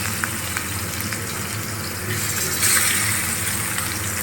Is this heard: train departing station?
no